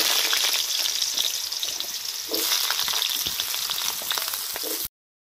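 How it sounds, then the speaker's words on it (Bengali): Potato fries in oil in a wok, giving a loud, continuous crackling sizzle with brief shifts in intensity before it cuts off abruptly. "প্রথমে আলুটা তেলে ভেজে নেব।"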